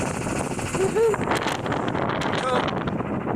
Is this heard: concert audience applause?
no